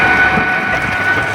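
A train passes a railway level crossing as a loud, steady broadband rumble close by, unbroken for the whole moment with no voices over it.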